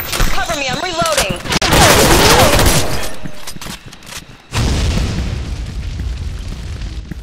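A grenade explodes amid gunfire in the online shooter Soldier Front 2, loud booming blast and bursts of shots, with shouted in-game voice callouts over the opening seconds, then a sudden cutoff and renewed rumbling fire.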